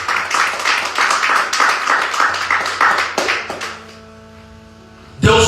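A church congregation at a communion service claps together in loud, dense applause for about three and a half seconds, then it fades into a quiet hum before a sudden sharp knock near the end.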